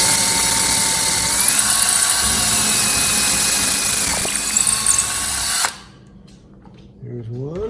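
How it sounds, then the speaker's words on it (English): A power drill bores a hole into a cabinet door while fitting handles, a loud steady high whine running about five and a half seconds before stopping abruptly, leaving quiet room noise and a faint rising sound. "And now I'm going to drill a hole right in the middle of that circle."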